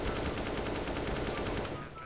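Sustained rapid automatic gunfire in a CS:GO competitive match, a fast even stream of close, loud shots lasting about two seconds and ending abruptly.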